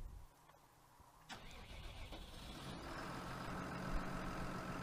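International 1455/1255 XL tractor in Farming Simulator 2019 starts after a quiet moment with a sharp crank, then settles into a rising, steady diesel idle that holds to the end.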